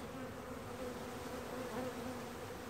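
Honey bees from a package buzz in a dense, continuous swarm drone, faint and steady without breaks, as they are shaken out into a hive.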